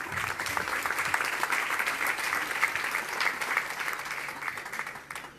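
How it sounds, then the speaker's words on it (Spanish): An audience at a community gathering in Mexico applauds, a steady wash of many hands clapping at moderate volume for several seconds before tapering off. "Un aplauso,"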